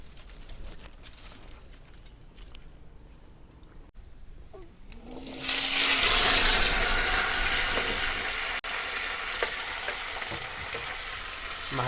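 Potatoes and tomatoes for saag fry in a pan in a rock cave kitchen, a loud steady sizzle bursting in midway and holding to the end, after quieter clatter and stirring.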